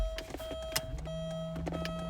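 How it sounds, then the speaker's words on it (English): The electric rear spoiler of a 1995 Porsche 993 C2 Cabriolet retracts with a quiet, steady motor whine and a few soft mechanical clicks, heard close up inside a calm car. "And so that's the sound of the spoiler going down"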